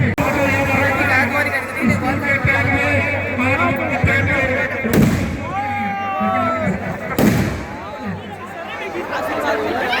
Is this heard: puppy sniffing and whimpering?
no